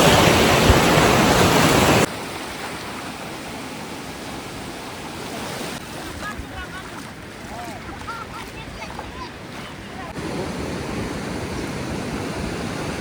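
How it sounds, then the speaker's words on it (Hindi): Ocean waves break on Palolem beach in Goa, a broad steady roar of surf that is loud at first and then settles into a softer, continuous wash with faint voices nearby. "यहाँ के पानी की लहरा दिख रही है"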